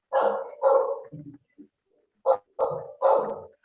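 A dog barks during an online class, giving two clusters of loud, close, rough barks with short quieter yips and whimpers between them and a brief pause in the middle, with no talking.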